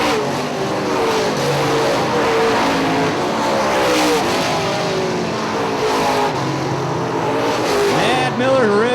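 UMP late model race cars on the final lap at Hartford Speedway Park, engines roaring and revving continuously with pitch sweeps as cars pass, under a race announcer's commentary.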